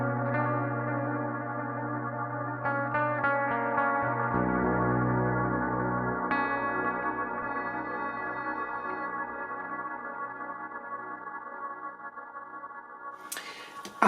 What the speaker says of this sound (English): I programmed this dual delay, which kind of like fake a delay being fed into a reverb pedal